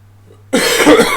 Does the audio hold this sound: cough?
yes